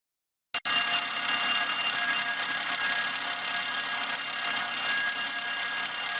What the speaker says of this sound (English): I am going to pull the fire alarm.